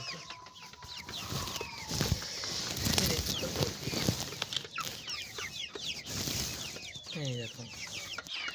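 Several chickens cluck and squawk nearby in an irregular chorus, with a rooster-like call and outdoor background noise.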